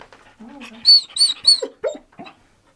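A dog whimpers in a house under renovation, giving three high, thin whines in quick succession, close to the microphone, with a person talking quietly around them.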